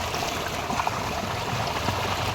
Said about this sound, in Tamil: மாலை நேரத்தில் வந்து விவசாயத்துக்கு தண்ணி திறந்து விட்டாச்சு